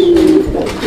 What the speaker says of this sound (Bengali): এখানে একটা কালারিং রাজগোল্লা কবুতরের সিঙ্গেল নর রয়েছে মাশাআল্লাহ।